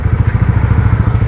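Two Yamaha NMAX scooters idle close by after a flood, their engines putting out a loud, steady low putter with a fast regular pulse and no voices over it.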